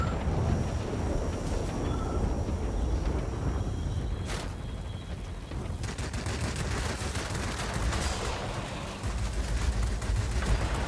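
Rapid, dense cannon fire from a Supermarine Seafang F.32 fighter aircraft in the World of Warplanes game, sustained bursts over a constant roar of engine and wind noise.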